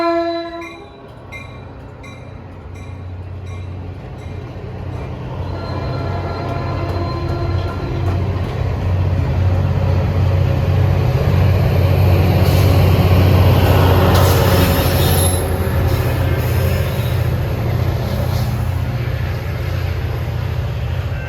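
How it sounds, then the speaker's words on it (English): Southbound Caltrain train rolling into Burlingame station, loud and close, with a sounded horn at the start and a building roar of wheels and cars passing that peaks midway and lingers. "Southbound coming into Burlingame, and I can hear 411 running over a half an hour late coming north in the distance."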